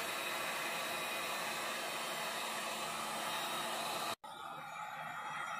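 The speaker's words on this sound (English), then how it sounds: "we'll take out our trusty heat gun, and we're going to warm these babies up" A heat gun warming plastic saddlebags on a scrap piece of material, a steady loud blowing hiss that runs continuously, briefly cuts out, then resumes slightly quieter.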